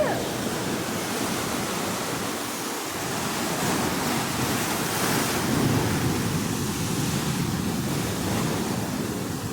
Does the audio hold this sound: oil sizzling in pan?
no